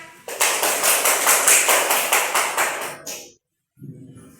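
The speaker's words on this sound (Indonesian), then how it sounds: "Kasih tepuk tangan." Children in a classroom clap together in a quick, steady rhythm for about three seconds, loud and close, then stop abruptly; a short, softer rustle follows after a brief silence.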